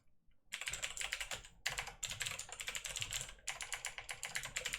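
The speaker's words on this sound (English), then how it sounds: "I'm just typing it in." Rapid, steady typing on a computer keyboard, close up, in quick bursts with a short pause between runs of keystrokes.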